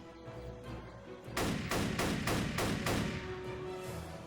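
An M1 Garand rifle fires in a World War II video game as a run of about six loud, evenly spaced gunshots over low ambient rumble.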